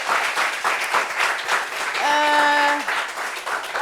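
Sustained crowd applause, a dense wash of clapping throughout, with a brief tonal horn-like note rising over it midway.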